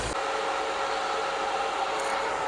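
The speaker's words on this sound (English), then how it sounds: "hopefully you guys can hear me over the fan" A car's engine cooling fan roars steadily in a driveway during ignition timing work, a loud continuous whooshing rush that fills the whole moment with no breaks.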